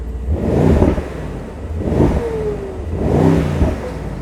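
A Mercedes-AMG GT revs three times in quick succession, each close, loud exhaust swell rising and falling back with no voices over it.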